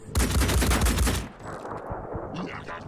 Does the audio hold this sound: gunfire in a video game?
yes